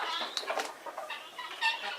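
Chickens, including Australorps, cluck and murmur softly inside a coop at close range, short irregular calls scattered over quiet.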